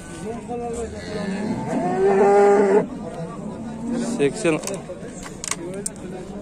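A bull moos once, loud and drawn-out, at a busy livestock market, with people talking throughout and some jangling and clatter around it.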